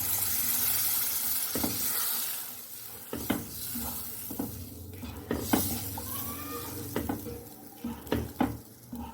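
A spatula stirs suji halwa in a pan over low heat with milk added, giving scattered soft scrapes and clicks against the pan under a faint sizzle, close by and fairly quiet.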